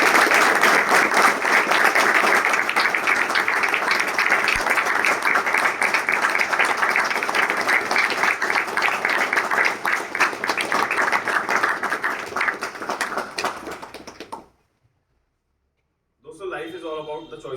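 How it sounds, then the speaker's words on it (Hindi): Loud, sustained applause from a crowd at a rehabilitation-centre celebration of a third recovery birthday, steady for about fourteen seconds before cutting off, followed by a brief return of sound. "तालियां"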